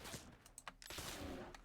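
A rapid burst of gunfire while hunting bears in an Oregon Trail game, several quick shots close together, fairly faint.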